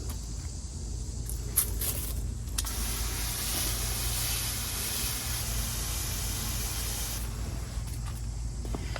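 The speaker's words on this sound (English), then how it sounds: "I can get rid of them by maybe spraying them with water" A steady hissing spray of water runs almost continuously for several seconds, close by, with a low rumble underneath and no talking.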